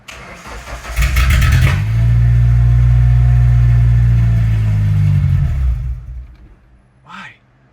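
An old yard car's engine catches and revs hard for several seconds, holding a loud steady roar before sputtering and dying away, followed by a brief cough from the starter as a person speaks nearby.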